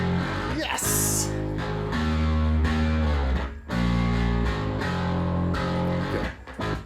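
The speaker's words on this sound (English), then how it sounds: "let's see what kind of distortion we got on this sucker" Electric bass run through the CLA Bass distortion plugin during a live mixing session, playing sustained growling, overdriven notes in a steady line, loud and upfront with no talk over it.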